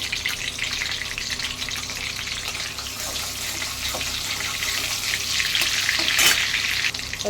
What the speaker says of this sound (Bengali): এবার ওই তেলেই আমি গরম মশলা ফোড়ন দিয়ে দিচ্ছি।